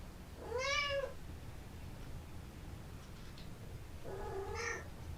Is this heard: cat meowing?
yes